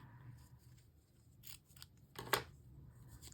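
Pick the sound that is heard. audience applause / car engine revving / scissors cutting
scissors cutting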